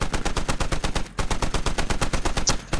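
Automatic gunfire in the Squad military video game, two close, rapid bursts of evenly spaced shots separated by a brief pause.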